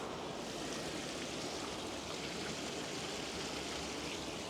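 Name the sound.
murmur of flowing water beside a path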